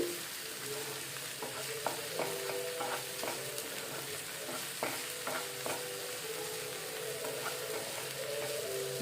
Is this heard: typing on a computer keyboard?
no